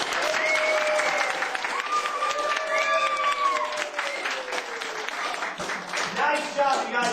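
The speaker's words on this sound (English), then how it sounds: "give Madeline a nice big round of applause." Children at a birthday party clap in a sustained round of applause for a girl, with excited young voices and squeals riding over the steady clapping throughout.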